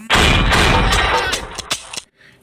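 A loud grenade explosion in a gun video game bursts out with a heavy boom, then a few sharp crackling blasts follow before it cuts to near silence.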